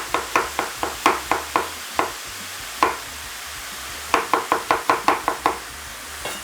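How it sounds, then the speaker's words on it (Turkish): A knife chops onions on a cutting board in quick, sharp knocks, bursts of rapid strokes separated by short pauses, close and clear in a kitchen where meat is being sautéed. "hemen 3 tane soğanı sevgili seyirciler piyaz doğruyorum."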